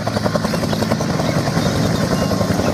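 A small toy helicopter whirs with a rapid, steady rotor flutter, loud and close, continuing without pause.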